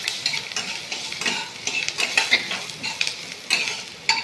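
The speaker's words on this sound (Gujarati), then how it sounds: "એની અંદર જે ભીનાશ છે લીલા મરચાની અંદર એ જાય ત્યાં સુધી આપણે તેને શેકી લઈશું।" Green chillies roasting and being stirred in a pan for poha chevda, a steady bright sizzle broken by repeated scraping strokes of a spoon, close and fairly loud with no voices.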